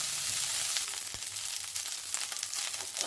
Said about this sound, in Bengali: তো দেখুন এবার ফুলকপিগুলোকে আমি কিন্তু ভালো করে ভেজে নেবো সবগুলোকে।